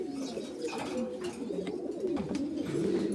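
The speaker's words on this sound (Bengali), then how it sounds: "দর্শক এখানে দেখতে পাচ্ছেন একজোড়া নান আছে, ব্ল্যাক নান ভাই" A pair of black Nun pigeons coo in soft, repeated low murmurs close by, overlapping continuously with a few faint background sounds.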